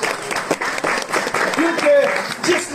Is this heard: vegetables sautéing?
no